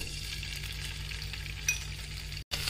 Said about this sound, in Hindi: ऑयल गरम करके ना हम पनीर को फ्राई कर लेंगे